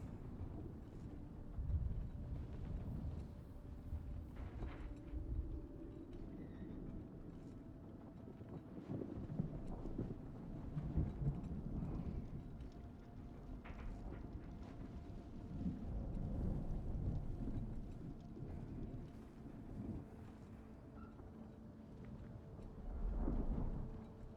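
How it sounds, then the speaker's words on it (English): A storm sweeps across the desert in the video game Dune: Awakening, with a steady low rumble of wind and thunder-like booms swelling at intervals, loud and continuous with no voices. "we gotta wait out the storm"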